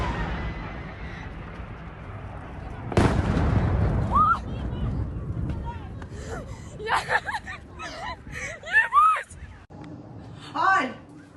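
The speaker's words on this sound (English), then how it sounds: "footage showing these people fleeing for cover as these Atacms missiles are coming in" Incoming ATACMS missile strikes in war footage: a sharp, loud blast bursts in about three seconds in, then a rumbling aftermath, with people's distressed voices and cries rising over the noise as they flee for cover.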